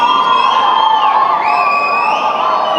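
Crowd at a film press meet cheering and whooping to welcome the lead actor and actresses, a loud, sustained wash of voices with rising shouts throughout.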